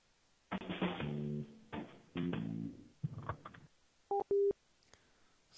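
After a tech-support call is hung up, a phone line plays a series of electronic tones: several long buzzy tone bursts, then two short clean beeps, fairly loud and close with no talking.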